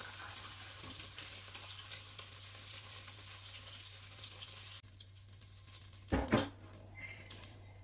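Fish fries in a pan for a fish and carrot sauce, a soft continuous sizzle near the mic, followed by a brief clatter and splash of water.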